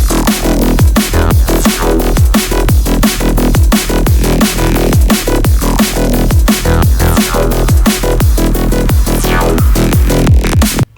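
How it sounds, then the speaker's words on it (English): A loud, sidechained synth lead rendered to audio in FL Studio for a song bootleg pumps rhythmically against steady beats and plays continuously without any voices. "There is now a sidechain on the lead that is now turned into audio,"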